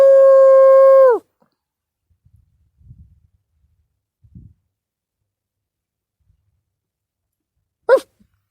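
Coyotes howl after dark: a single loud, sustained howl rings out at the start, followed by a long near-silence with faint rustles and one short, sharp distant cry near the end.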